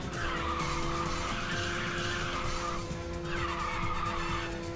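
A racing car's tires squeal in long skidding screeches over a steady engine drone in the video game Ridge Racer 6, loud and continuous with no talking.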